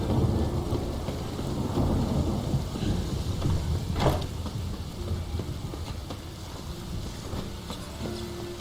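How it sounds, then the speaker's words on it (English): Heavy rain pours steadily in a Witcher 3 storm, with a loud rumbling thunder crack near the middle and a dense wash of rainfall throughout. "storm, damn it."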